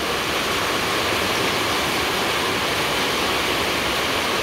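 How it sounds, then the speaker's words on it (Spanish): Heavy rain pours down steadily at a home, a loud, dense, unbroken hiss that fills the whole stretch with no pauses and no voices. "Ahora sí se vino recio la lluvia."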